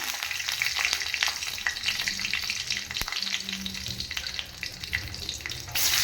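Chillies fry in about two spoons of hot oil, sizzling and crackling steadily throughout, a dense close frying hiss with occasional sharper pops and a stirring clatter.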